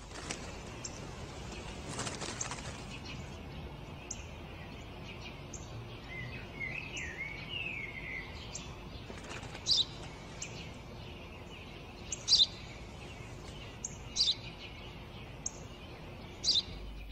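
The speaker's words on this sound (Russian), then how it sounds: "Это воробей, отец, воробей." A sparrow gives short, high chirps, heard as several brief calls spaced a couple of seconds apart over a faint background hiss, with a softer trill partway through.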